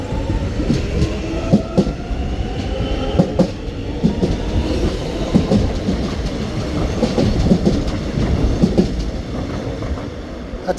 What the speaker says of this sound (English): That's a long metro.